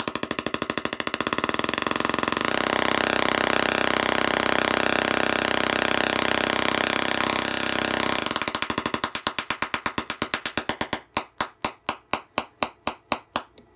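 A Tesla coil running at full power, aimed at a flower, gives a loud, steady buzzing roar for about eight seconds, then breaks into a rapid, rhythmic train of sharp crackling pulses that thin out toward the end.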